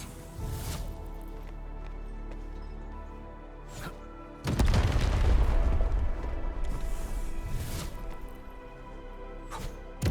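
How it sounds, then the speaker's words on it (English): Explosion in the video game Arknights Endfield: a sharp blast lands midway and leaves a loud, rumbling low roar that fades slowly. Short impacts and game sounds come before and after it. "I give that explosion a 10 out of 10."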